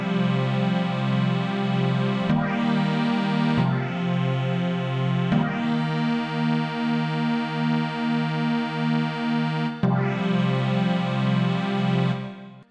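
Suspended fourth chords from the Chord Companion MIDI effect in Tracktion Waveform 11 Pro ring as full, sustained block chords without arpeggio, several changes in a row and then a cutoff, with no voices.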